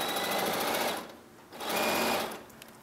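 A sewing machine stitches log cabin quilt pieces in two close, rapid bursts of whirring needle action separated by a brief pause, with no talk over it.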